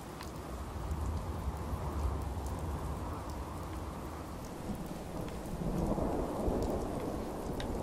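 Rain falls steadily while thunder rumbles low in a Fallout 4 storm, with the rumble swelling louder toward the end.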